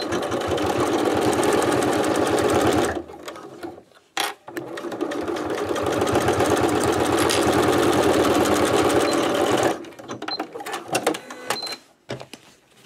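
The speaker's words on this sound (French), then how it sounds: "je vais pouvoir venir coudre mon biais" A sewing machine stitches bias binding onto a fabric card holder. It runs loud and close in two long continuous passes split by a short stop, then ends in a few choppy bursts.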